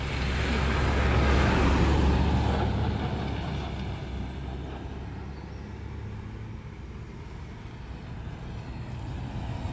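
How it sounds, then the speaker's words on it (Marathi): A state transport bus rolls past on a village road in Konkan, loud and close at first with a broad engine rumble, then fading gradually as it moves away over about ten seconds. "गाडी गेली ती गोरेगाव तोराडी गाडी आहे"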